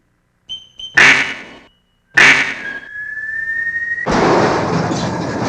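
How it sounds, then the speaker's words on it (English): A bird in the video game Tales from Genesis Space gives loud, close quacking calls in two bursts, followed by a steady rising whistle-like tone and then a dense, noisy roar, with no talking. "Look, something normal. A bird. Pretty."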